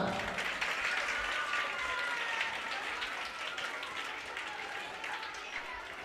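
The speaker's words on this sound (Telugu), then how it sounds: "అన్న వస్తుండే, మీరు అందరు క్లాప్స్ కొట్టాలా?" Children at a one-day retreat clap together in a sustained, even burst of applause to welcome a speaker, steady at first and easing slightly toward the end.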